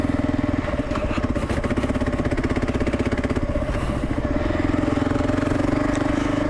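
A KLR motorcycle with a 16-tooth front sprocket rides along in first gear, its single-cylinder engine thumping steadily and loud close by, the note holding fairly even with slight rises in revs and no talking.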